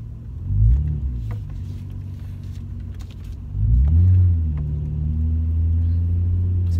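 A car driven by a young learner pulls away and accelerates, the engine rumbling up in two distinct surges with a gentle rise in pitch, then settling into a steady low drone, close and fairly loud.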